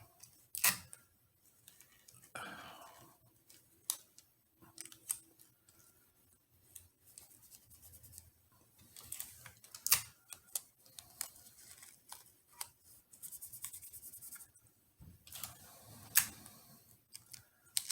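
Tape pulled and pressed onto fabric over paper-towel stabilizer while a fabric Christmas tree purse is sewn, with scattered close, quiet clicks, crinkles and rustles separated by near silence.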